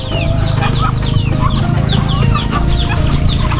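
Chickens cluck and chirp busily nearby among ducks and turkeys awaiting feed, with a few sharp calls layered over a steady low farmyard rumble, no talking.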